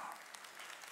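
A church congregation at a Wednesday worship service applauds, a brief, faint, steady wash of clapping heard from a distance.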